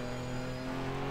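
A race car in the video game Project CARS at Cadwell Park, its engine holding a steady, loud droning tone for a brief moment with no speech.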